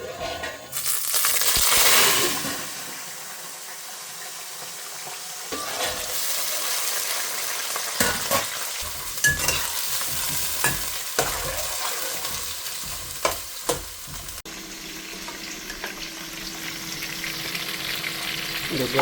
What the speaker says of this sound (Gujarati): લસણનો વઘાર મૂક,